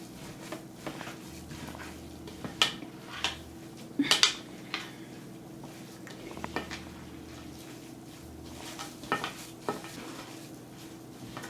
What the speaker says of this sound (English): Just keep mixing.